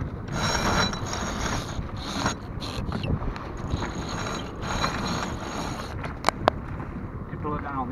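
A sailboat's jib sheet comes off a winch during a tack on a CLEO Raven 26, giving mechanical ratchet and pulley clicks over constant wind and water noise, with a couple of sharp snaps near the end.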